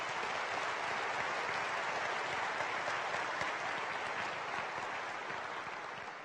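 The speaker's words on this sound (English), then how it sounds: "Let's thank Joel and his entire team this morning" Sustained applause from a large audience fills the Eastern Kentucky University fall convocation hall, a dense, steady wash of clapping that holds strong throughout and eases off slightly near the end.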